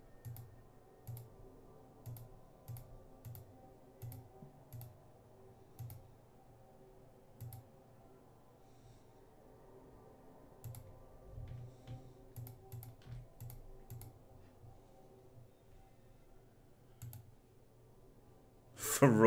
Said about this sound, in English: Ferocious clicking.